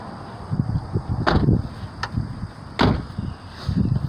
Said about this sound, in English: this way all the doors can close